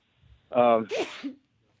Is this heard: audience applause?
no